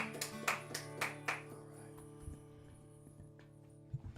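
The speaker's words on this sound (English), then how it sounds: "Give Jose a round of applause." At an open mic night, a small audience gives a brief scattering of claps for a performer, a few sharp hand claps in the first second before the room falls quiet with faint background sounds.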